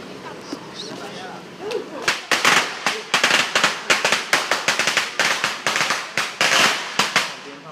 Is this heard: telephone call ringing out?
no